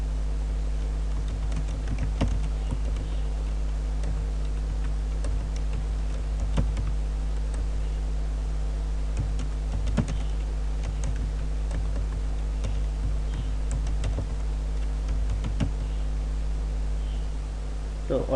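Keystrokes on a computer keyboard as a site title is typed into a website customization panel, a steady run of light taps over a constant low hum throughout.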